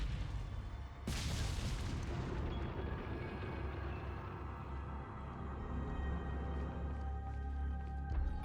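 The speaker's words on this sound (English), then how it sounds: "If you shoot this cannon, all the enemies in the room despawn." A cannon blast in Resident Evil 4 booms loudly once, followed by a long rumbling, crackling tail of debris and reverberating echo that slowly settles under a steady game ambience.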